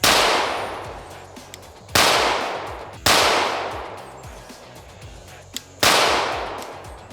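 A CZ CR920XP pistol fires Max Tech ammunition: four sharp, loud shots at uneven intervals, each with a long ringing reverberant tail, plus one small faint pop between them.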